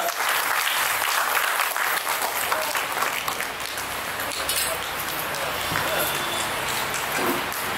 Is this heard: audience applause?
yes